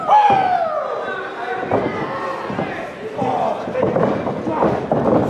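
A wrestler is body-slammed onto the ring canvas during an RWA indoor match, a heavy thud ringing out amid loud crowd noise and excited commentary.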